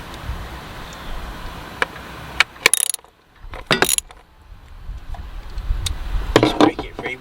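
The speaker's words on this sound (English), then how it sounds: "Just break it free with the ratchet" A ratchet breaks loose a coil pack bolt under the engine cover of a 2014 Kia Forte during a spark plug change. Clicking bursts come close by, with handling clatter between them and a low background hum.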